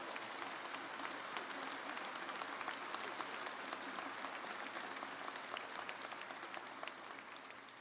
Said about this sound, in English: give yourselves a round of applause for your university and for all of us